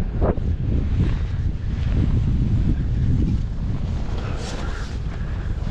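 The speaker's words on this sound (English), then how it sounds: "A little breezy out here today." Steady wind roars across an open frozen lake during an ice-fishing outing in the Adirondacks in December, buffeting the microphone loudly and continuously throughout, with a faint voice briefly underneath.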